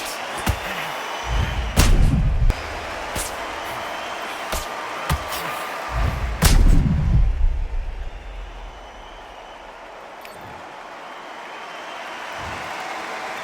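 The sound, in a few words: boxing punch to the head, from video game Undisputed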